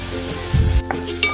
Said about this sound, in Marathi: ही पेस्ट मोठ्या गॅसवर चांगली परतून घ्यायची आहे।